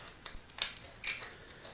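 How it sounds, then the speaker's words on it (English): Scissors cutting the thin aluminum of a Fancy Feast can, a few quiet, close snips with sharp metallic crunches spaced irregularly. "Use your scissors."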